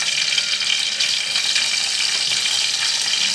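Mustard seeds spluttering in hot ghee, tempering for a horse gram rasam; a steady, dense crackling hiss with no breaks, continuous and close.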